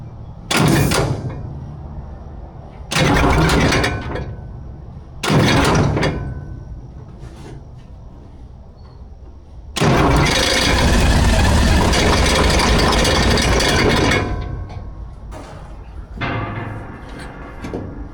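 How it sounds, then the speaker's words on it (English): A Yeramba engine with its injectors and pipes removed is cranked over in several loud bursts, three short and one long, with quieter gaps between them. "We'll just give it a little bit of a turnover while all the pipes are off, just to make sure the motor's going to turn over."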